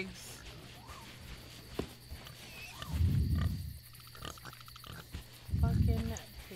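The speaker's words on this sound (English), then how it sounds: "I hear pigs." Two low grunting oinks from pigs, a few seconds apart, over faint game ambience and footsteps with occasional talk.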